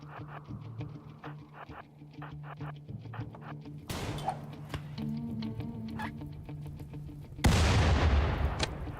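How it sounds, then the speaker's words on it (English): Rimworld combat on a tribal start, with grenade-throwing pig raiders: scattered small pops and crackles through the first half, then two heavier bursts, the last a loud, low explosion near the end. "you almost got grenaded"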